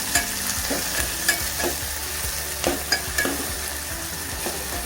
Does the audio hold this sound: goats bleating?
no